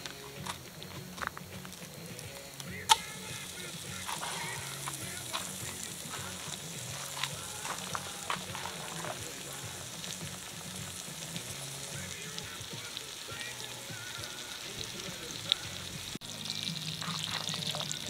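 Hand-cut ribeye steak frying with garlic and butter in a Dutch oven, a steady soft sizzle that runs the whole length at low level, with occasional faint clicks and pops.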